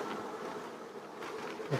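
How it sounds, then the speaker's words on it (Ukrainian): Honey bees drone continuously at an apiary in a soft, steady buzz, many insects humming together with no voices. "на пасіці хороший такий льот. Спостерігається, бджола активно пішла."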